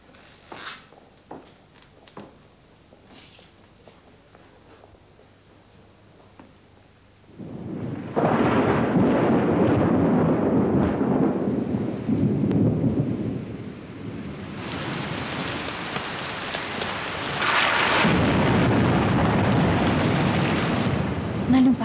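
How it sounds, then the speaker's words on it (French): Thunder rumbles in a storm, loud low roars arriving after a quieter stretch of small knocks and movement indoors, with brief speech in between. "Il va y avoir de l'orage."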